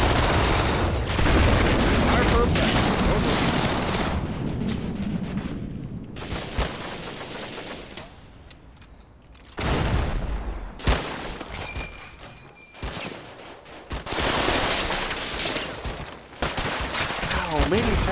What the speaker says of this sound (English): Plenty of shooting going on